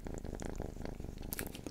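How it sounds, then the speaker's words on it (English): A cat purrs in a steady, low rhythmic rumble, close and continuous, with faint soft sounds over it near the end. "It's hard for me to listen with that purring noise."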